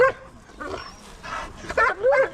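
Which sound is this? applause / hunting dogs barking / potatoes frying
hunting dogs barking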